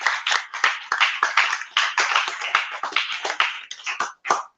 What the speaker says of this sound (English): Another round of applause for this speaker.